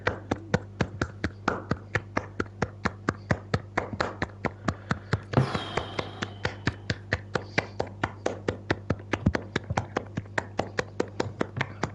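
Rhythmic hand clapping from a small group, sharp regular claps repeating about three to four per second and continuing without a break, close and clear, with no speech.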